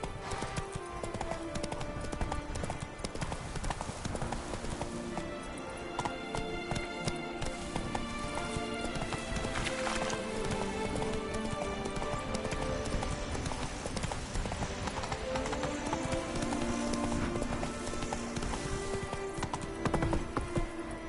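Steady galloping hooves of a horse in The Witcher 3, a fast continuous clip-clop rhythm carried through the whole stretch, close and loud, with occasional whinnies and a busy game soundscape around it.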